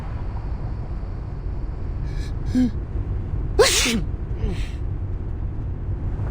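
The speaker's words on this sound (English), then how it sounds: "That's your 9th sneeze since we got here." A single sharp sneeze bursts out over a steady low rumble of background noise, with a few soft breaths or gasps around it.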